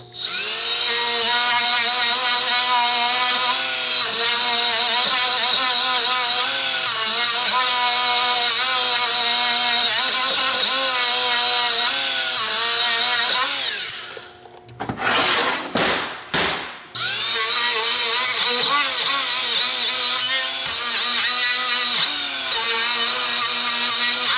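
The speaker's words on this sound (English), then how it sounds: "Aluminum carbide burrs, cut aluminum, amazing." A Chief carbide burr on a rotary tool grinds aluminum on a lower control arm being weld-repaired, a loud, high, continuous whine close by that briefly stutters and cuts out mid-way before resuming steadily.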